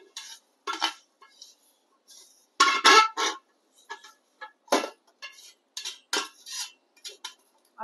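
A spoon scrapes and scoops dry-roasted coriander seeds out of a pan while making masala, in short clinking, rattling bursts with quiet pauses between them, close and fairly soft.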